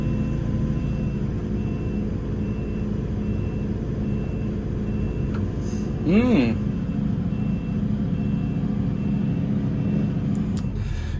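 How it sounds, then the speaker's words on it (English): A steady mechanical drone from a new Develon DX63-7 excavator fills the scene while a faint electronic beep sounds intermittently, and a brief rising tone swells in the middle. "There's a beeping noise coming from somewhere."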